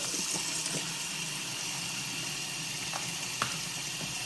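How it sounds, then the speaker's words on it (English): Warm water running into a container for soaking motorcycle helmet cheek and top pads, a steady soft gushing hiss with a few small clinks and splashes. "You just fill up with warm water."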